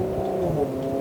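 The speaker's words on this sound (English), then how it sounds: "and there's a car." A car passes close by outdoors, a steady humming engine and tire drone that holds level for a second, moderately loud with no voices.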